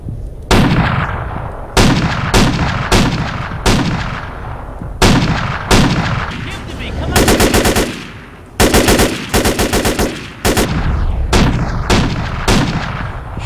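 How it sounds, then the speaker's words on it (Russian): Rapid bursts of video-game gunfire aimed at the player in a GTA San Andreas zombie mod set in Los Santos, loud, close shots coming in repeated volleys with short gaps between them. "Чёрт, он в меня стреляет."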